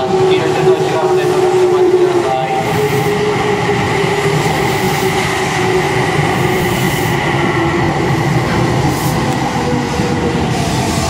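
An Odakyu commuter train rumbles loudly into Noborito Station's platform 2, a continuous heavy roar with a brief high squeal of wheels near the start.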